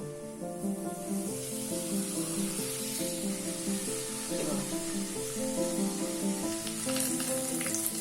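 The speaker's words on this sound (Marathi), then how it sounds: "पापड भाजते आता." Papad roasting with a continuous crackling sizzle, steady and close, heard under melodic background music for the whole stretch.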